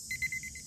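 A timer alarm gives a quick run of about six short, high electronic beeps in an even rhythm. They sound moderately faint against a quiet background during a sodium nitrite preparation.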